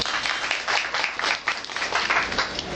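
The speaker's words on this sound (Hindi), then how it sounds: "छोटे लाल जी के लिए भी एक बार जोरदार तालियां।" Members at a Gita society gathering give loud applause to honoured fellow members, a thick steady burst of clapping heard up close for a few seconds, with no speech over it.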